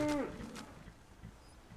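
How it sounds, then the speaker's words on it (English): A cow in the Skyrim game lets out a single short, faint moo at the start, dying away within a quarter second, followed by quiet low ambient game background. "Cow. It's a cow. We've got cows."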